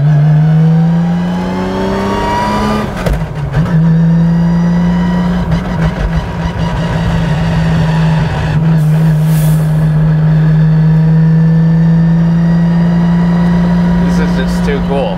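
Inside a 1995 GReddy-built Nissan R33 GT-R while driving, a loud steady engine drone runs throughout with rising transmission whine as it revs through the gears, and people talk over it.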